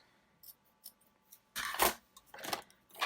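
Scissors cut through a small piece of cloth for a craft journal, a few light snips followed by longer, louder crunchy cutting strokes close up.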